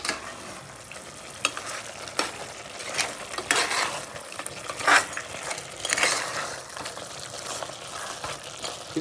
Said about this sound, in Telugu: 1 స్పూను ఉప్పు వేసి చక్కగా ఒకసారి కలుపుకుందాం.